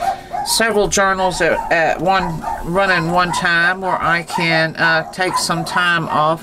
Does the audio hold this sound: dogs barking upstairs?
yes